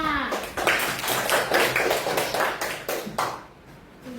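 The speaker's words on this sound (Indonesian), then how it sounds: "tepuk tangan untuk temannya." A classroom of children claps together for a classmate, a cluster of close, uneven hand claps in a short burst that thins out and stops near the end, with a teacher's voice briefly heard at the start.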